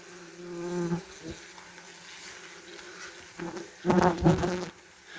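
German wasps buzz inside a big nest, a dense close hum with individual insects droning past and a louder flurry of buzzing bursts toward the end.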